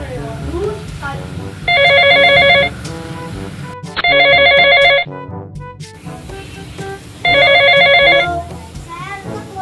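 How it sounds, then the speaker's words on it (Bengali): A telephone bell rings in three loud, separate bursts of trilling tones during a comedy drama scene, with people talking in between. "রূপা জামাই, তোমার সাথেই কথা বলার জন্য ফোন করেছি"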